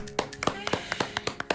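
A few pairs of hands clap in quick, uneven bursts inside a radio studio, the sharp close slaps sounding over faint background tones.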